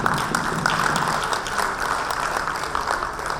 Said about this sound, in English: Beginning with applause seems a little more befitting.